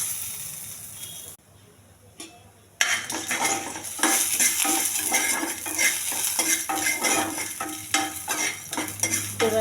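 Mustard seeds and cumin fry in a pan for tomato-coriander chutney, giving a steady crackling sizzle with repeated metal clinks of stirring, close and continuous after a brief quiet pause.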